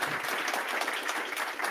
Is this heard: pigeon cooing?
no